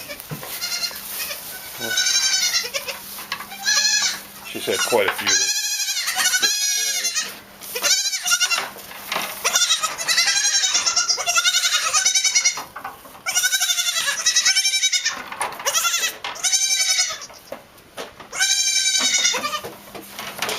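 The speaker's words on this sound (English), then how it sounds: "If you think you hear goats, you do. My daughter-in-law raises Nubian goats." Nubian goats bleat repeatedly, loud and close, several overlapping calls in irregular bursts, with brief talk in between.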